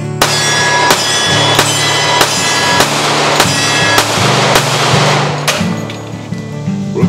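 Ten loud, sharp gunshots from a Colt Wiley Clapp stainless steel Commander .45 ACP pistol fired at a steady pace, each crack ringing out briefly with a metallic ring, the last few spaced slightly wider, with no talk.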